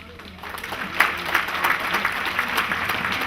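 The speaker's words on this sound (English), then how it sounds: "give Dr. Fobi a round of applause" An audience at an African family induction ceremony in Los Angeles applauds Dr. Fobi, a dense, moderately loud wash of clapping that builds after the first half second and holds steady.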